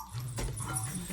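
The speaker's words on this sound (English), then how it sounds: "the dogs are playing in the background" Dogs playing indoors give a short, close whimpering whine over a low steady hum, with a small yip-like sound in the middle and no talk.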